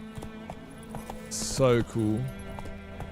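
A horse gallops in The Witcher 3, its hooves clip-clopping in a quick, even rhythm while someone speaks briefly over it.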